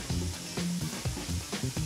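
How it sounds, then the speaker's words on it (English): Four cheese and sausage penne sauce sizzles in a pan, a soft, close bubbling and crackling with small pops repeating unevenly under quiet kitchen sounds. "You hear the sizzling?"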